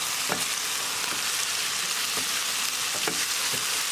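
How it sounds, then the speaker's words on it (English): Tilapia pieces and mixed vegetables cooking on high heat in an open pan, a dense, loud sizzle broken by several sharp scrapes and knocks as the food is stirred. "Bring the gas to high and mix it well. And we're going to cook with open lid for 1 minute."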